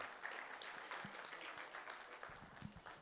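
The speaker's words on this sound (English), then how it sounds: "Yes, please clap for me." Faint audience applause at a cybersecurity conference: a steady patter of clapping that stays soft and somewhat distant through the whole stretch.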